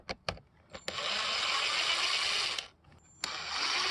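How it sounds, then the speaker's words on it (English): A T20 bit on a power driver removes the screws of a front speaker in a Mercedes 907 Sprinter van. A few sharp clicks come first, then two sustained motorized whirs separated by a brief pause, heard close up. "Now we're going to go ahead and use a T20 bit to remove these 4"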